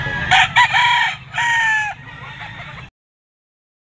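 Roosters and hens crow and cluck close by at a Sunday gamefowl market, with two quick clucks followed by a drawn-out crow and then fainter clucking before it goes quiet.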